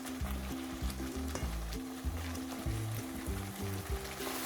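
Ground roasted coriander and cumin frying in a pan while making halwa puri chana: a steady, dense sizzle with intermittent scraping and stirring, close and continuous.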